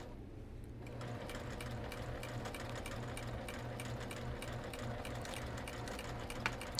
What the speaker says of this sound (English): I'm going to take it all the way to my next needle and back stitch there.